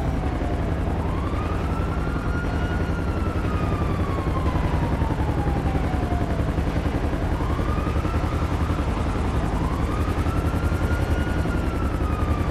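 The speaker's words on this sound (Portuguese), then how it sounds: "Dois helicópteros, olha ali." Police helicopters circle overhead during a video game police chase, their steady rotor drone mixed with a dense wash of engine noise and sweeping sirens that rise and fall throughout.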